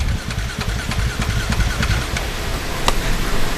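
Dakar rally motorbike engine being cranked over, a steady loud rumbling churn with rapid pulsing throughout and a brief sharp click near the end.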